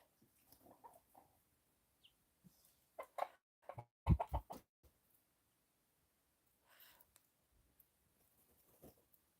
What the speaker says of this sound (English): Nobody asked you, chickens?